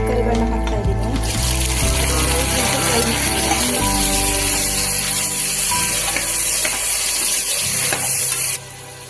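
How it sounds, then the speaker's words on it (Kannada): Chopped vegetables sizzle and crackle steadily in a pan while being stirred for coconut milk pulao, a continuous frying hiss with scraping through most of the stretch. "ಈಗ ಕಟ್ ಮಾಡ್ಕೊಂಡು ಇಟ್ಕೊಂಡಿರೋ ತರಕಾರಿಗಳನ್ನ ಹಾಕ್ತಾ ಇದ್ದೀನಿ"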